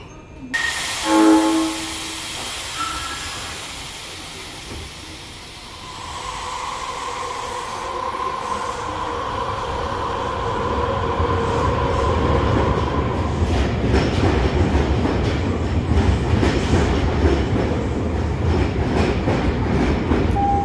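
Osaka Metro train at Taisho Station, loud and close: a short horn or whistle burst, then a steady rumble building to heavy wheel and rail noise with clacking as the train passes.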